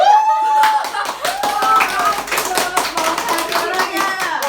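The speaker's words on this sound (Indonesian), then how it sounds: "Tepuk tangan buat teman-teman" A studio audience of around 2,000 people claps at an Indonesian faith talk show. Sharp, irregular hand claps rise and fall under a musical tone and some background voices, loud and close throughout.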